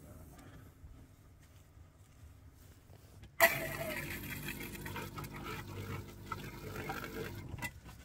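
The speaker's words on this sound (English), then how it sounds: "So you've got some kind of pump, water pump in there?" A water pump in an overlander vehicle's seven-gallon water system switches on abruptly partway through, then runs as a steady close whirring and gushing flow after a quiet start, with faint voices in the background.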